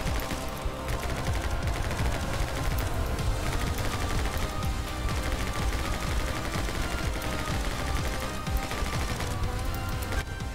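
Rapid, continuous gunfire from a player shooting in the video game My Friend Pedro, with dense overlapping shots and a steady loud barrage that runs the whole stretch with no talking.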